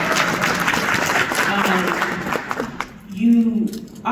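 Loud, dense applause from a large audience fills most of the clip, then thins out as a voice begins talking near the end.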